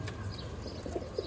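Pigeons kept in a loft for sale coo in low, murmuring bursts, soft and close, with faint chirps and rustling over a steady low background hum.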